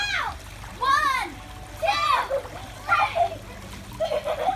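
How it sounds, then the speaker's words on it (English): Water splashes in a backyard swimming pool during family play, several bursts of splashing alternating with children's excited shouts and voices throughout. "A splash attack."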